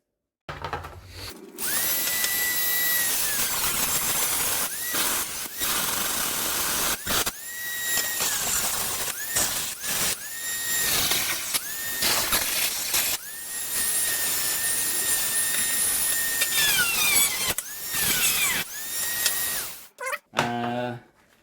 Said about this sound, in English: So I'm going to grind this off now.